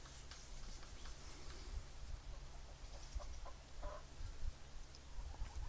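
Chickens cluck softly at a distance over a low rumbling background, with scattered short calls and faint rustling throughout.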